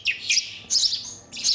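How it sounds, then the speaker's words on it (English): Starling nestlings give several sharp, high chirps in quick bursts close by, loud against a quiet background. "Starlings are the noisiest residents in the nestling room."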